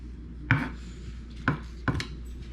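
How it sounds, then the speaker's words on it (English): A knife chops down through an onion onto a wooden cutting board, three distinct knocks spaced irregularly and close by, with quiet kitchen background between strokes. "to finish dicing my onion"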